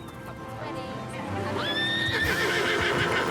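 A horse gives a loud, rising whinny, with faint hoof clops and outdoor background noise around it.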